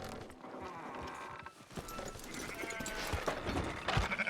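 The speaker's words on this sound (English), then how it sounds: "Fine sheep." Sheep in Red Dead Redemption 2 bleat repeatedly at close range over a steady background hum, the calls growing busier and overlapping toward the end.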